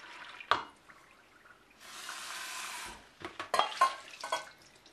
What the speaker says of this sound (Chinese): 沖洗它幾次